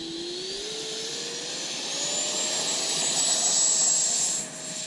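Freewing J-10A 90mm and 70mm F-16 RC electric ducted-fan jets taking off together, a steady rising whine that climbs in pitch and swells in loudness, then drops off sharply near the end.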